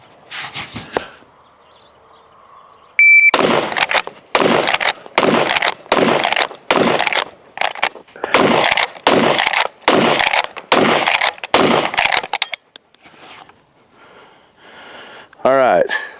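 A Strasser RS 700 straight-pull rifle fed from an MDT 10-round magazine fires ten rapid shots in under nine seconds. The loud reports come in an even, quick rhythm, followed by quieter handling noise.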